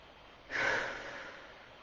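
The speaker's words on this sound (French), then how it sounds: "on prend une bonne inspire" A single deep breath drawn in sharply through the nose and mouth, close and fairly loud, then a softer, sustained airy tail as it fills, heard alone in a quiet room.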